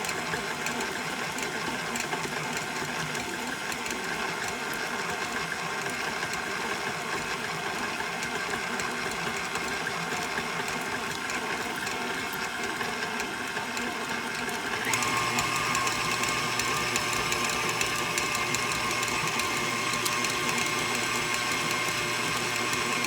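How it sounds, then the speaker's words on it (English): An electric mixer creams shortening for a cake, a steady loud whirring motor drone that runs throughout and steps up in pitch and intensity partway through as the speed is raised. "So again, it's going to get loud because of the mixer,"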